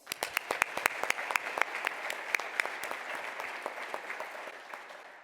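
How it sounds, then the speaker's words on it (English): Audience applause at a business hall of fame dinner event, crisp individual claps standing out over a dense, even wash of clapping that continues steadily for several seconds. "Let's give them another round of applause."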